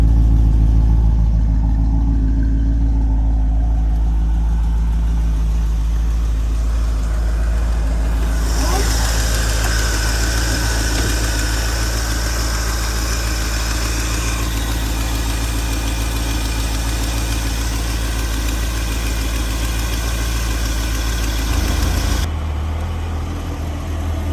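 A 1984 Chevrolet Corvette C4 engine idles steadily with a low, rumbling hum and a constant vibration throughout, close by, through a worn exhaust.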